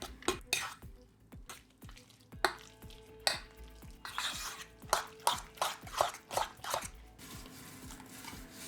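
A utensil scrapes and clicks rhythmically against a bowl while thick chicken mince with salt, flour and mayonnaise is mixed, a steady series of close wet strokes with no talking.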